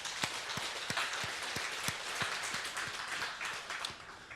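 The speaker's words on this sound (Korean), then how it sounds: "우리 하나님께 영광의 박수를" A Korean church congregation claps in unison during a sermon, with steady rhythmic beats about three per second over a softer spread of hand noise that gradually fades.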